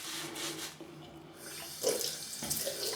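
Tap water running into a sink while a shaving brush lather is being worked up, a steady hissing splash that shifts and briefly intensifies as hands or the brush move under the stream.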